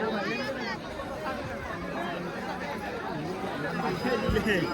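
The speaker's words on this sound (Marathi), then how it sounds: "गर्दी बघा" Dense crowd chatter fills a busy temple in Ujjain, a steady, close hubbub of many overlapping voices with no pauses.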